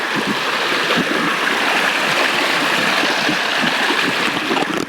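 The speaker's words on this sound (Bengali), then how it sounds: "ঝর্ণার কলকল শব্দে খানটা দারুণ লাগছে" A babbling mountain stream and waterfall on a hill trail in Sitakunda, a steady rushing wash of water filling the whole stretch without a break.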